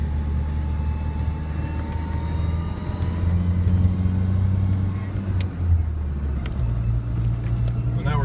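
An old pickup truck engine labors up a steep hill, a loud steady rumbling drone with shifting pitch as it strains, heard from inside the cab with continuous engine noise throughout.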